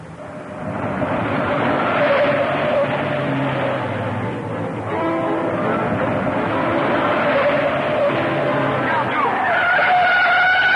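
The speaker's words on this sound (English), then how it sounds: "I believe that car back there is tailing us." A car speeds along a dirt road in a 1940 serial, its engine roaring loudly with continuous tire skidding and squealing, a dense sustained rush that stays strong throughout.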